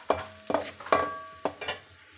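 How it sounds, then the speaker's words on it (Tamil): Carrot sautéing in oil in a pan for Tamil-style hotel egg fried rice, with four sharp stirring scrapes and clatters of a spoon over a light sizzle, close and fairly quiet, no talking. "ஒரு கேரட்டை போட்டு நல்லா வதக்கிக்கோங்க."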